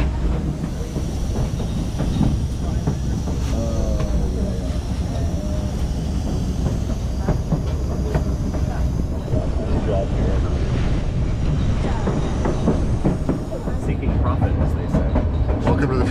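The White Pass railway train near Skagway, Alaska, rumbles past with a loud continuous roar and rattle as heard from outside the cars, a dense steady din with faint voices underneath.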